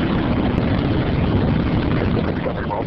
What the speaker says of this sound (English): 2, 1, booster ignition. And liftoff of the Space Shuttle Discovery, returning to the space station